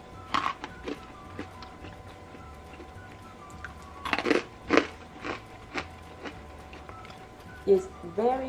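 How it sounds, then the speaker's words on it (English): Crispy coconut cookies bitten and crunched close up, a few sharp crunchy bites spaced through the clip with soft chewing between, under a quiet steady background hum. "It's very crispy with a yummy coconut cream flavor and it melts in your mouth."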